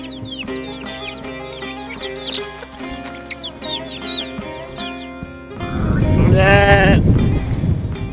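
A flock of sheep kept by a longtime shepherd bleats repeatedly and overlapping, many close and loud calls, joined by a louder burst of bleating from several animals near the end, with no talking.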